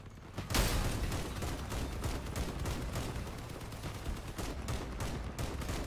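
Vehicle-mounted weapons firing in the Crossout combat game, a sustained stream of loud overlapping gunfire kicking in sharply after a brief lull and rattling on without pause.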